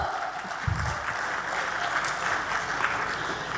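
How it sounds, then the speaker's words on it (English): Conference panel audience clapping after a speaker's introduction at an education conclave, a steady, fairly quiet patter of applause sustained throughout, with a brief low thump near the start. "May we hear a thunderous clap for Kulbhushan, sir."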